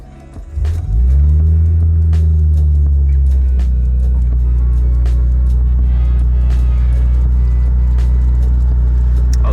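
A Nissan Skyline R34 engine cranks, catches and revs up, then settles into a deep, steady idle that stays loud and close with a constant low rumble.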